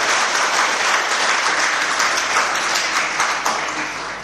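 Audience at a Jain religious discourse applauding steadily, a dense, loud wash of clapping that continues evenly throughout.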